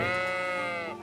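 A single sheep bleats in Kingdom Come: Deliverance, a close, loud, wavering baa that lasts about a second and fades at the end, with no talking.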